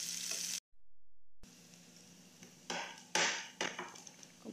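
Onions fry in a hot pan with a soft continuous sizzle, broken by a brief cut to silence, then several louder scraping stir strokes crackle through the oil up close.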